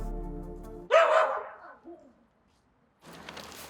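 A single dog gives one loud, close bark that trails off, then silence, followed by a burst of rustling noise; no clear talking over it.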